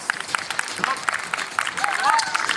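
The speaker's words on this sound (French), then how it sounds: "vous pouvez quand même l'applaudir" Audience applause for a ten-year-old dog at a regional dog show on Réunion Island, a steady patter of clapping with crowd murmur throughout, plus a few brief higher tonal sounds on top.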